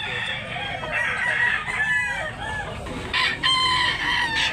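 A Tasmanian hini gamecock rooster crows up close, its loud, strained call rising and breaking in a couple of drawn-out bursts over faint background noise.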